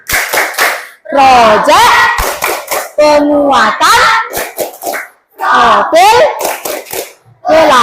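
Schoolchildren in an Indonesian elementary classroom perform the P5 rhythmic clapping chant, bursts of loud, close hand claps alternating with shouted group chanting in a steady call-and-response beat.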